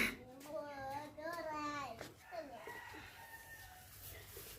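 A village chicken clucks and calls in a few drawn-out rising notes, fairly close, with a voice and other talk around it.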